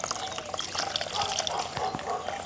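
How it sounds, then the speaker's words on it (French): Ginger bug poured through muslin set in a strainer, a soft continuous trickle and splash of liquid at low level, with faint handling noises. "j'installe une mousseline dans une passoire et je vais y verser mon bug"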